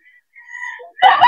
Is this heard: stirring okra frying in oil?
no